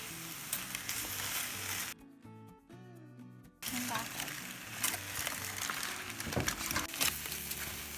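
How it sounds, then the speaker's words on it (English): Whole tomatoes roast on a stovetop over medium heat with a steady, moderately loud sizzle and crackle. Around the middle, a short tonal, voice-like passage briefly replaces the sizzle before it resumes. "I'm gonna put it on the stove on medium heat and roast it."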